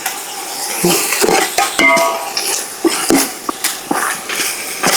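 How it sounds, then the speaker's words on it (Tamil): Mutton with ginger and garlic being mixed in a pot for Madurai mutton sukka, loud close clanks and scrapes of a metal ladle against the vessel in irregular bursts, with a faint sizzle underneath. "எல்லாத்தையும் மிக்ஸ் பண்ணிடலாமா? மிக்ஸ் பண்ணுண்ணா, நல்லா மிக்ஸ் பண்ணுண்ணா."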